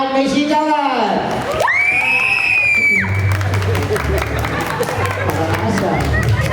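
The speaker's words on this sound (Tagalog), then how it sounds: "palakpakan may sigawan!" Wedding guests clap and cheer in a lively crowd, with shouts and whoops rising over the applause while an emcee talks loudly through a microphone.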